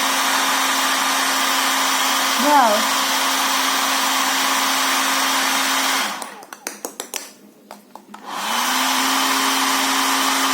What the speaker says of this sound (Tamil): இதை பாருங்க, ஹேர் ட்ரையர் இங்கே இருக்கு